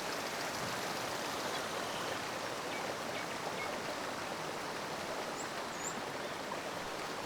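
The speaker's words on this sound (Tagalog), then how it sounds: "Siguro galing to dun sa may bandang waterfall." A stream fed by a waterfall at Twin Falls in Mui Wo rushes steadily, a dense continuous wash of flowing water with no talking.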